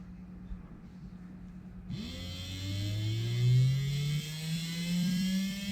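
A brushed electric motor on a 7.2 volt supply kicks on partway through and runs with a steady, loud whine that rises in pitch as it spins up, over a low background hum.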